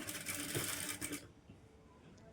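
A sewing machine stitches lining piping onto a blouse a quarter inch from the edge, a close, fairly quiet whirring run of about a second before it stops and leaves a faint background hum.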